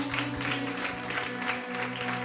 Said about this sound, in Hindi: यीशु के लिए जोरदार तालियों के साथ